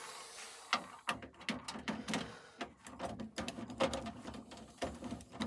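Screws being removed from a panel of an LG FFH 5670 midi system from the early 2000s, heard as a close run of sharp clicks, small metallic knocks and scrapes at an irregular pace.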